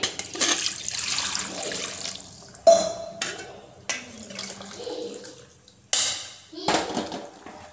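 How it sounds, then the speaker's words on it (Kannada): Water poured into a pot of cooking horse gram curry with fried tomato, a few splashy bursts of pouring close by, separated by pauses and mixed with kitchen clatter and a speaking voice. "ನೀರು ಆ್ಯಡ್ ಮಾಡ್ಕೊಳ್ಳಿ"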